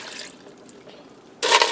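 Water poured into a Ninja Speedi pot over noodles for Swedish meatballs, a loud close splashing burst arriving suddenly near the end after a quiet stretch.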